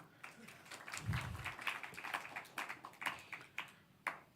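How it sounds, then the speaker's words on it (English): Audience at the 2nd World Skills Kenya Competition applauding a presenter, a scattered patter of hand claps from a modest crowd, fairly quiet and thinning out toward the end after a brief low thump. "Let's clap for him."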